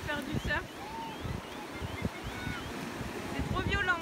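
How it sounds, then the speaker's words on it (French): Big ocean waves breaking at Moliets beach on the French Atlantic coast, a continuous rushing wash with wind buffeting the microphone, while people talk nearby. "il y a trop de grosses vagues, hein."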